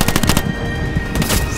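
Rapid bursts of automatic gunfire on a video game battlefield, loud and close, several quick shots in a row with no talk.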